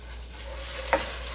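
Turkey sausage browning in olive oil in a pan gives a faint, steady sizzle, with one brief utensil click near the end.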